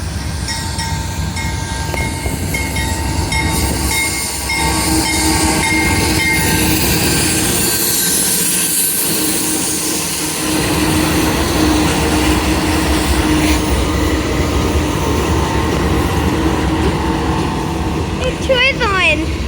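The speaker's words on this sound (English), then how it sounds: "He's on our track at the train station. 4-engine vehicle." A four-engine CSX freight train rolls into a station in the rain, with a loud steady rumble of wheels and railcars, metallic squeals and a short horn-like tone near the end.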